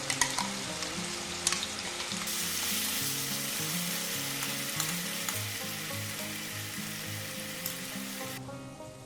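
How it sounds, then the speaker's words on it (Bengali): Onion paste made from one large onion fries in a pan, giving a continuous close sizzle with occasional stirring clatter, while quiet background music plays underneath. "পেঁয়াজটা পেস্ট করে নিয়েছি একটা বড় সাইজের এটা দিয়ে দিচ্ছি"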